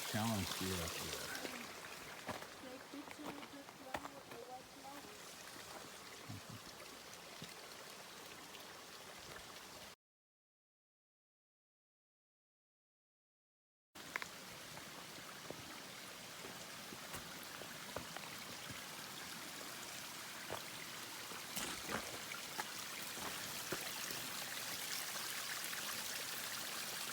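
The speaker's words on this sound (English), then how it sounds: "This same water crosses the trail 3 times." Mountain creek water crossing a hiking trail near Boulder Creek Lakes, a steady broadband rush and splash, fairly close, continuous apart from a brief gap in the middle.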